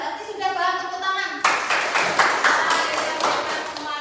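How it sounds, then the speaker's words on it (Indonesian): Schoolchildren in a classroom clap their hands together during a lesson on smart and non-smart machines, a lively burst of uneven claps that starts suddenly after a tonal sound and continues for a few seconds. "Berarti sudah paham, tepuk tangan."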